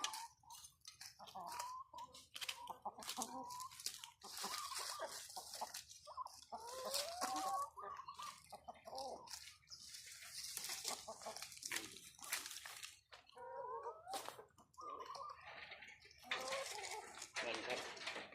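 Laying hens cluck steadily while pecking at mung bean sprouts, a busy close flock chatter running throughout beneath someone talking, with a dog briefly audible.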